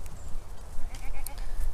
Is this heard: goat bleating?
yes